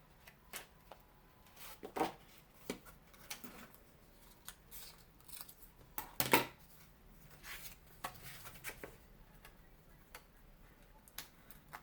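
Card paper being trimmed for a fall-themed Z fold card, giving a series of faint, crisp snips and cuts at irregular intervals, with one louder sharp cut near the middle, in a quiet room.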